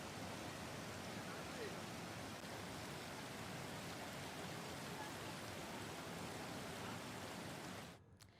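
Steady, dense rain pouring down during several days of continuous rainfall in Nashik, Maharashtra, a constant broadband hiss that fills the scene before suddenly dropping away at the very end.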